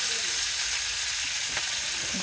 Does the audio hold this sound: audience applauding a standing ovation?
no